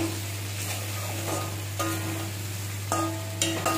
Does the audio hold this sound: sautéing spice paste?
yes